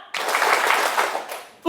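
A group of people clapping together on command, a short, dense burst of many hands clapping at once, fairly close, fading out after about a second and a half.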